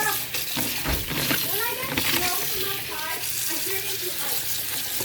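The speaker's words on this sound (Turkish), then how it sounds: "bezelyelerimizi güzelce yıkıyoruz" Peas being washed under a running kitchen tap, water streaming steadily into a sink with splashing and light handling throughout, a voice speaking over it.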